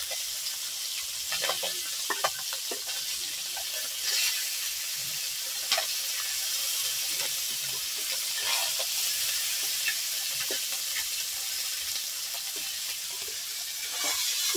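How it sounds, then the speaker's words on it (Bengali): Small fish frying in a pan give off a steady, close sizzle with bright hiss throughout, and faint clinks and stirring taps now and then, with no talking. "এদিকটায় ছোট মাছ নিয়েছি আর এদিকটায় ভেজে নিচ্ছি"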